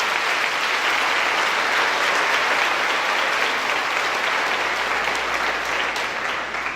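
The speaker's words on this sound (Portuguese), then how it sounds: "Vamos aplaudir o Senhor?" Church congregation applauding, a dense, continuous clapping that stays loud and even for several seconds, filling the room with no speech on top.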